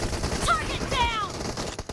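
Automatic fire from a Groza rifle in a BGMI team deathmatch, a continuous loud burst lasting about two seconds, mixed with whistling in-game effects.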